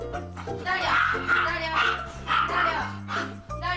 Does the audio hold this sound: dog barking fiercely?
yes